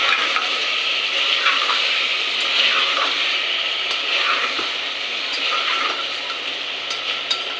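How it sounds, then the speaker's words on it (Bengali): Chicken with masala and tomatoes being stirred in a hot pan for a Bengali kosha curry, a steady close sizzle with soft scraping strokes running throughout, no talk. "দিয়ে দিচ্ছি টমাটোর। এবারে একটু নাড়াচাড়া করে নিচ্ছি।"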